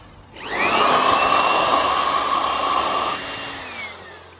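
An electric blower spins up with a rising whine, runs as a loud steady rush of air for a few seconds, then winds down.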